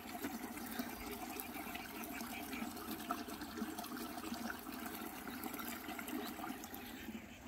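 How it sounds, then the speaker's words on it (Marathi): Hot spring water at Aravali, beside the Mumbai–Goa highway, streams steadily out of its outlet, a continuous rushing, gurgling flow heard nearby with no voices. "त्याचा इकडे एक प्रवाह इकडे बाहेर येतोय"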